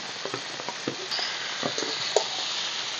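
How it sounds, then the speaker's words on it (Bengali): Chicken sautéing in a pan with chicken masala gives a steady soft sizzle, broken by occasional light taps and stirring clinks close by. "চিকেন দিয়ে এবার একটু কষিয়ে কষিয়ে রান্নাটা করব।"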